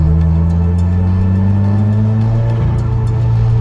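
A Subaru WRX exhaust with SRS performance aftermarket mufflers rumbles steadily at idle, low and droning, with a slight shift in pitch near the end, close and fairly loud.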